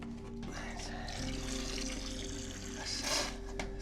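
Liquid pouring into a container in a room, a steady watery stream running for several seconds with a constant low hum beneath and a brief burst of splashing near the end; a voice is faintly present.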